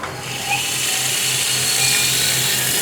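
A Brown & Sharpe 1440U universal grinder runs its internal ID spindle, producing a steady, close high-pitched whine with a low motor hum beneath, fairly loud and continuous.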